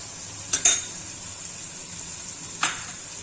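Ginger sizzles steadily in hot oil for a bilimbi pickle, with a few sharp scrapes and clinks of a spoon stirring the pan, close and moderately loud with no talking.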